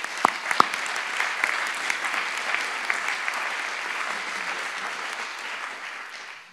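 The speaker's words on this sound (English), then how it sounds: "Let's give Mark and the committee a round of applause." An audience at a law school honors awards ceremony applauds a committee, with dense sustained clapping and a few sharp close claps at the start, slowly fading out.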